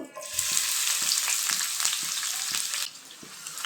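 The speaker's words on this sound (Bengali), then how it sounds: "আমি প্রথমে পেঁয়াজের বেরেস্তা ভেজে নেব" Chopped onions frying in a generous amount of hot oil for crisp birista, a steady close sizzle broken by soft scraping stirs at a regular pace, with no talking.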